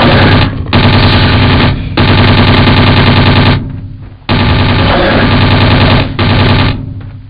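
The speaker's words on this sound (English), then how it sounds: "let's just head on over there and try out our new Calico pistol" A Calico pistol fires in the video game Jurassic Park Trespasser, loosing three long, loud rapid-fire bursts separated by brief pauses.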